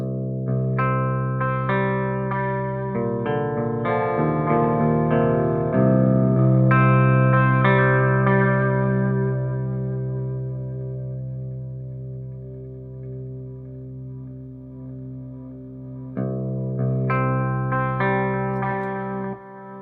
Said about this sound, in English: So you can hear there we have a very different type of oscillation just by changing the output level and the sensitivity.